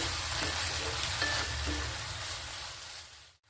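Coriander leaves stirred into a radish chutney in a pan, a broad hiss of sizzling with a few soft scrapes that fades out at the very end.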